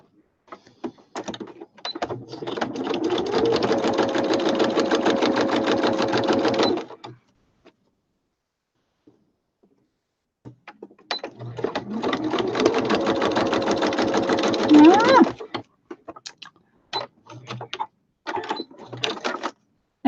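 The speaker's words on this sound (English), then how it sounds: "I'm going to sew it up on the side first." Sewing machine running a side seam in two sustained, close, even-rhythmed bursts of rapid stitching, each about five seconds long, separated by a quiet pause and followed by scattered short clicks and taps.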